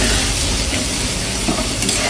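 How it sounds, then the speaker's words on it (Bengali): Curry being stirred in a wok after water is poured over the spiced potatoes, a loud close sizzle and bubbling with scraping stirs, steady and dense throughout with no talk. "এর মধ্যে দিয়ে দেবো আমরা এখন জল দিয়ে সুন্দর করে নাড়াবো।"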